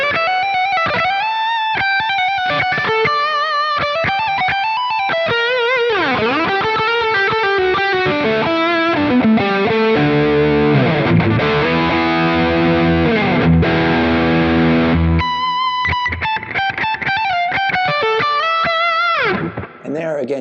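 A PRS SE CE 24 Satin electric guitar on its humbucker pickup plays a distorted lead: fast runs, pitch bends and sustained notes with strong upper-mid bite. It is loud and continuous, with no talking over it.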